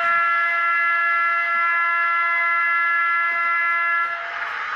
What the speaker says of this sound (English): Sounds like an American horn.